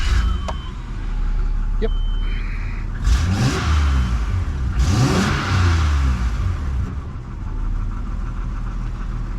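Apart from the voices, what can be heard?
Nissan Pathfinder engine starting and revving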